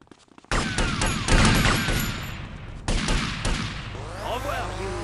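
Heavy gunfire rattles through a shootout in GTA Vice City on PC, with a loud volley of overlapping shots, a brief dip, then another burst over a low engine-like rumble.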